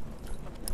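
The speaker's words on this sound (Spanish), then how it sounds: "voy a dar un pequeño trote a mi caballo para que se relaje" A horse trotting during a riding lesson, hooves clip-clopping in a quick, muffled rhythm over a brief stretch, moderately close with some background noise.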